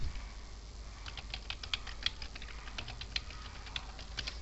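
Quiet, close typing on a computer keyboard, a quick irregular patter of key clicks with no talk.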